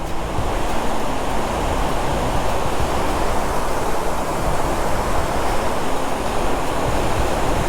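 The Nangartas waterfall at Amboli in the rain roars as a loud, close, unbroken rush of falling water, steady from start to finish with no voices.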